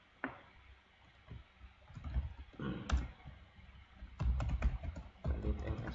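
Computer keyboard keys pressed for a copy shortcut during SAP2000 software work, a few close clicks followed by a denser cluster of quick taps.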